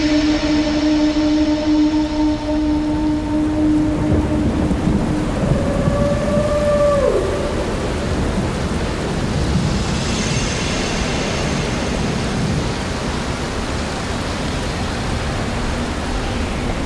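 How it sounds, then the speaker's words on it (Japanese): Heavy rain pours steadily throughout a radio drama scene as the downpour puts out a fire, with a low rumble of thunder beneath and brief tonal effects fading out in the first few seconds. "水流が雨で火を消していく"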